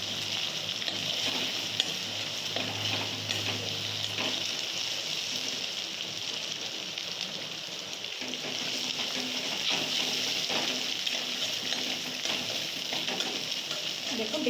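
An egg is chopped into small pieces with a spatula while it fries in a pan for egg fried rice, under a steady loud sizzle with faint scraping, and no talk.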